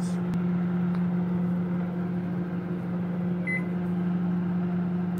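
Microwave oven running, a steady low electrical hum with a constant tonal drone, near and unbroken, with a faint click near the start and a brief high chirp midway.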